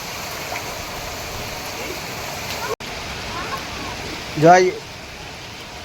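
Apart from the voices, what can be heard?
heavy monsoon rain falling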